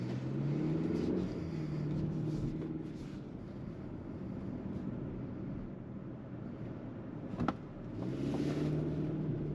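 A 2023 Hyundai Tucson XRT with all-wheel drive rolls slowly around a parking lot, its faint engine and tyre noise steady with gentle rises as it picks up speed, heard from inside.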